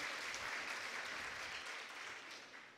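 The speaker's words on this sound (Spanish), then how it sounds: "Fuerte el aplauso para nuestros amigos del Ministerio de Ambiente." Sustained applause from an audience at a regional oratory final in the Ngäbe Buglé comarca, a dense even clatter of clapping that holds steady for nearly three seconds, then gradually thins and softens.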